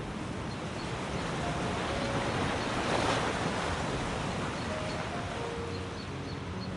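Waves break on an island beach in the late afternoon, a continuous, loud wash of surf with wind buffeting the microphone and a brief swell near the middle.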